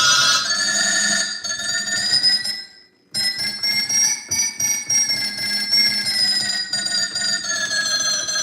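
Synthesized phone ringtone melodies played musically in Ionian mode during a live music improv, bright sustained tones ringing loudly and steadily with a brief pause near the middle.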